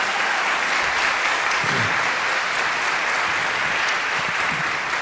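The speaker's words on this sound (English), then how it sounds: "Can you please give her a round of applause?" A high school fall concert audience claps for the accompanist, a steady, dense wash of applause that holds at full strength for the whole stretch with no voices rising above it.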